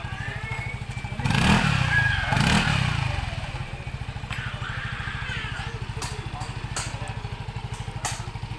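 Fuel-injected motorcycle engine running during a test after cleaning, a steady close idle with a couple of louder revs early on, people talking faintly in the background.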